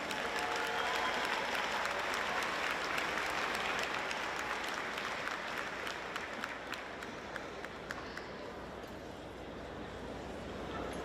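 A graduation audience at the International Academy 2022 commencement claps continuously for about eleven seconds, a broad, even roar of many hands that softens slightly toward the end.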